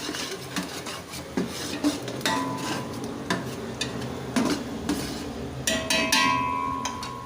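A spoon stirs salt, chili flakes and black pepper through a pot of chana pulao, making repeated scraping and clinking strokes against the metal in an uneven rhythm, close and fairly loud, with no talking.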